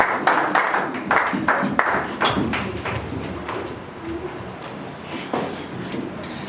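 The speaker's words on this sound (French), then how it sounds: "Acclamons pour le Seigneur et prenons nos places" A congregation in a French-speaking church service applauds in bursts of rhythmic clapping, loud at first and then thinning out toward the end.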